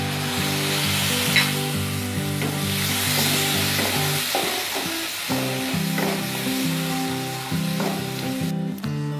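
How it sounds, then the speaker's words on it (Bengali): Whole cumin, ginger and spices with potato and tomato puree frying and being stirred in a pan, a loud steady sizzle with scraping stirs while soft music plays beneath. "মশলাটা ভালো করে কষিয়ে নিচ্ছি।"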